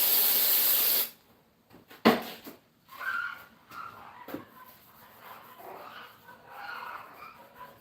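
Aerosol can sprayed onto teardown parts of an Oldsmobile 403 engine, a loud close continuous hiss for about a second, then short intermittent bursts and a dog barking and whimpering in the background.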